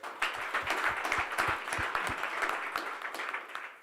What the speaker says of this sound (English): audience, you also deserve your own round of applause.